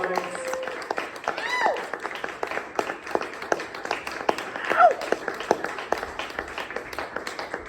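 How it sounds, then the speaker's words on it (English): A standup comedy audience applauds in a steady patter of many hands, moderately loud and sustained, with scattered voices and a whoop mixed in. "A round of applause, please, for the TrogDelites."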